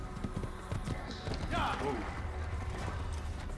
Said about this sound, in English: now heading over the log and the stones, and so we gallop